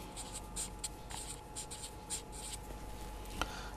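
Marker or chalk writing on a board during a lecture, faint scratchy strokes in short irregular bursts over a quiet room hum.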